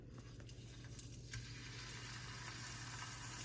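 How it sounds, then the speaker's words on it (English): Soft, steady sizzling of fish frying in a pan that is not yet fully hot, a continuous crackling hiss with a low hum underneath and no voices. "let's see if we can hear it sizzle"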